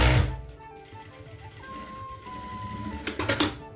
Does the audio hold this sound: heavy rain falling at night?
no